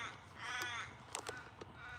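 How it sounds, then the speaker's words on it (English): Crows cawing outdoors after rain, several harsh caws in quick succession at moderate distance, fairly faint against a quiet background. "all the birds I can hear are crows"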